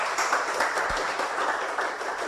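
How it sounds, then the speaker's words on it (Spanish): Church congregation applauding the Lord during a sermon, a dense, even patter of many hands clapping at moderate loudness, continuous and without talk. "Démosle un fuerte aplauso al Señor, hermano."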